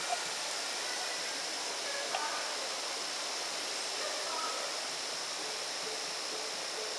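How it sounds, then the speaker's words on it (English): Shock Top Belgian White beer being poured into a glass, a steady close-up fizzing rush that stays even and unbroken throughout, with no talking. "So it's poured on the side of the glass like this?"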